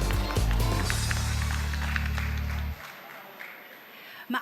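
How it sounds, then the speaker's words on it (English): Applause from an audience at a trade demo day event, a broad wash of clapping that holds steady for a few seconds alongside a low musical tone, then thins out and fades toward quiet. "Let's give her a round of applause."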